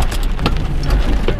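Hail pelts a car during a tornado chase, a dense, steady clatter of impacts on the body and roof, loud and continuous with scattered sharper hits over a low rumble.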